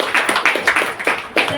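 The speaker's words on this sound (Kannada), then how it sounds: "ನಿಮ್ಮ ಮನೆಯವ್ರು ಜೋರಾಗಿ ಚಪ್ಪಾಳೆ ಕೊಡ್ಲೇಬೇಕು." Hands clapping indoors in a class gathering, several sharp claps in a loose, uneven rhythm, close and fairly loud with little else around them.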